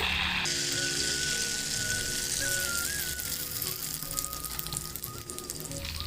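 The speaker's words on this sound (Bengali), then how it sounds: "এবার এই গরম তেলের মধ্যে আমি এক হাতা পরিমাণ ব্যাটার দিয়ে দেব" Semolina batter for Bengali sujir pitha sizzles in hot oil, a steady close hiss and crackle that holds throughout, with a bubbling tone rising out of the fizz.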